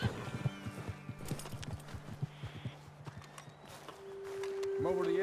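Horses in the Red Dead Redemption 2 video game, steady clip-clop hoofbeats walking close by with a snorting neigh, then a rising game music tone, while voices talk over the hooves.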